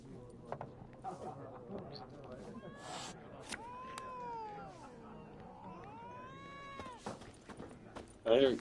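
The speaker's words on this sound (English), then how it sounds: "I hear a cat." A cat meowing in the video game The Witcher 3, several drawn-out rising and falling meows over quiet game ambience and footsteps, moderately close, with a voice speaking over part of it.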